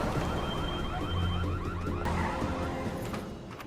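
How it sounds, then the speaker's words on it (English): A car alarm goes off in a nearby building, wailing in steady, rapidly repeating pitch sweeps that fill the whole stretch at constant loudness before easing slightly at the end. "Setting the alarm off in the other building."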